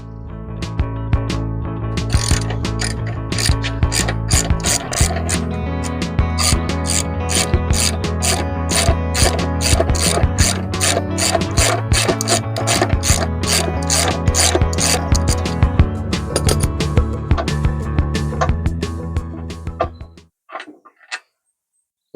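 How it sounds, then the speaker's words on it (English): A ratchet with a 12mm socket turns a bolt while pannier rails are fitted to a 2025 Royal Enfield Classic 650: rapid, rhythmic clicking of the pawl for about twenty seconds, close and clear, then a few final clicks. "Again, using a 12mm socket."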